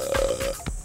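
Tubeless mountain bike tire burping air at 25 PSI on an angled landing off a small jump, a short low gust with a soft thump, heard alone and close.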